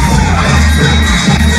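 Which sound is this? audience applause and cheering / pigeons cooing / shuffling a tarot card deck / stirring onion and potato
audience applause and cheering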